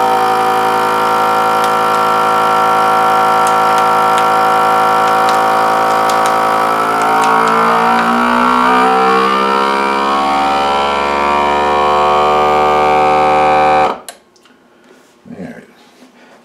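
A FoodSaver vacuum sealer pumps air with a loud, steady motor whine whose pitch shifts as the bag draws down, running for about fourteen seconds before cutting off, followed by brief faint handling noises.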